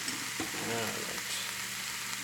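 Soup ingredients seasoned with garlic powder cook in a pot, giving a close, steady sizzle with faint stirring noises and no talk.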